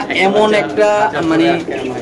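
Fancy pankhi pigeons at a bird market give soft, throaty coos close by, repeated through the short stretch as someone talks over them.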